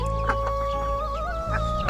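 Several chickens clucking nearby, a run of short, repeated calls over a constant low background hum.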